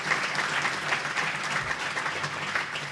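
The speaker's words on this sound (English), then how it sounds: "So please give them a round of applause in recognition of their investment." Audience applause fills a luncheon room at a State of the Cities event, a steady dense clatter of many hands clapping close by, with no break across the few seconds and only faint voices beneath.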